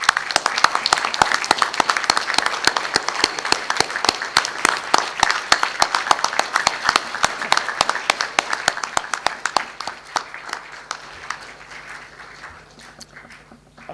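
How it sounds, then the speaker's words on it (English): A graduation audience at a University of Wollongong and INTI ceremony gives a long, dense round of applause for family members, sharp clapping near and loud, then thinning and fading over the last few seconds. "give them a big round of applause"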